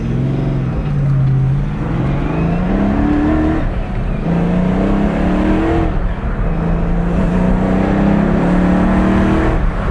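Cars on a road drive past and accelerate, with engines revving up in several rising sweeps that fall back between them, loud and close, with no voices.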